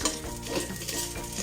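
Leftover fish frying in a pan until crispy, a steady close sizzle with light stirring and scraping throughout, no talking.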